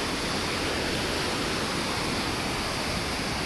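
Water pours steadily over Chelimela waterfall, a dense, unbroken roar with no voices or pauses.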